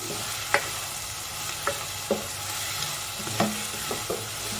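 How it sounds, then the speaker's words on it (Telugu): Thinly sliced onions fry in oil for a mutton curry, giving a steady sizzle under scattered spoon stirs and scrapes at an even, moderate level, with no voices. "ఆనియన్స్ని కలుపుతూ ఆనియన్స్ మంచి గోల్డెన్ బ్రౌన్ కలర్ వచ్చేంత వరకు ఫ్రై చేసుకుందాం"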